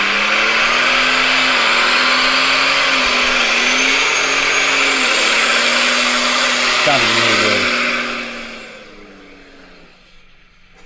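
A compound-turbo Cummins diesel truck engine roars and revs steadily for several seconds, dipping in pitch midway, then fades away; a voice speaks briefly over it.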